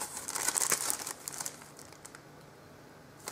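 Sheets of scrapbooking stickers crinkle crisply as they are handled, a close rustling burst in the first second or so that fades to quiet.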